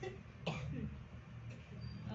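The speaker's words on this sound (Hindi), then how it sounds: "आपको तो बड़ी खांसी रहती है." A woman gives a single sharp cough, followed by a little throat-clearing, close to a microphone, against a quiet room hum.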